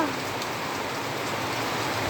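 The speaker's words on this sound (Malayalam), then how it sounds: "റിയലി പറഞ്ഞിട്ട് കുറേ മഴ നിങ്ങളൊന്ന് നോക്കണം" Heavy rain outside, a dense, steady hiss of falling water with no pauses, with a slight rise in loudness at the very end.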